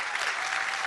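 Dense audience applause at a civic ideas event, loud and close, with many hands clapping in a continuous wash for under a second.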